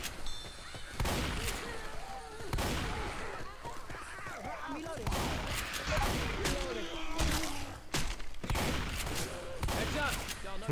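Rapid volleys of gunfire in Left 4 Dead 2 come in repeated bursts, some heavy and close, with voices talking over the shooting.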